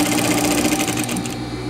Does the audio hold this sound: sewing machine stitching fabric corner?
yes